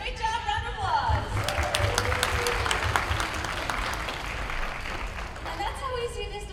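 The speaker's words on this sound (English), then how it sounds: "round of applause" An audience at an assertiveness seminar breaks into a sustained round of applause, dense clapping filling the room for several seconds with a few cheers and voices mixed in.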